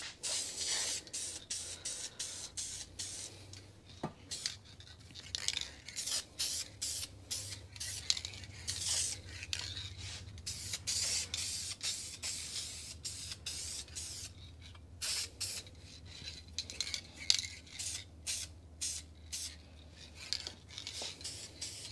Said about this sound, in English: I'm going to do a light misting coat first